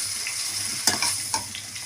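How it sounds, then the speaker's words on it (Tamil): Ground tomato being stirred into frying brinjal thokku in a pan, a steady sizzle with a few sharp spoon scrapes and clinks standing out, close and alone without talk. "நம்ம அரைச்ச தக்காளி சேர்த்துக்கலாங்க. சேர்த்துட்டு நல்லா கலந்து விட்டுக்கலாங்க."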